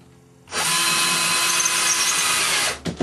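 A power drill bores a test hole into a cavity wall, a close, loud, steady high whine that starts suddenly, holds for about two seconds, then stops.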